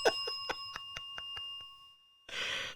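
A small bell rung as a cussing bell during a video game session gives a series of quick, bright dings that fade, followed by a short burst of noise.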